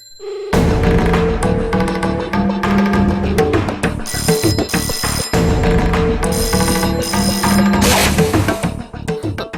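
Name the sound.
telephone ringing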